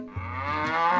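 A dairy cow gives one loud, close moo that swells and holds steady, standing alone without any talk.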